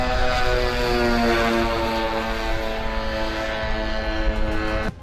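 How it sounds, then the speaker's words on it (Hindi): A Hezbollah drone launched from a launcher drones in flight with a loud, steady propeller-engine buzz, holding a constant pitch for the whole stretch with no voices. "हिजबुल्लाह के 2 लड़ाके एक ड्रोन को लॉन्चर में फिट करके उसे फायर कर देते हैं, जो सीधे मनारा सेटलमेंट में गिरता है"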